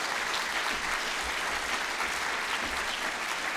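Steady, dense applause from an audience at an award ceremony, sustained at even loudness throughout without pause.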